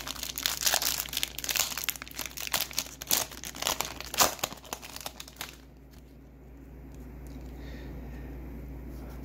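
A 2021 Panini Chronicles football card value pack is torn open, with loud close crinkling and tearing of the foil wrapper in rapid bursts for several seconds, then a quieter hiss with no voices.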